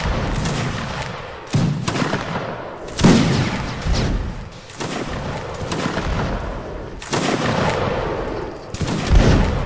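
Musket volleys crack out repeatedly in the Napoleonic Wars battle game Mount and Blade, several loud rolling bursts of massed gunfire in succession, close and dense.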